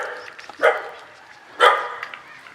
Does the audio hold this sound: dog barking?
yes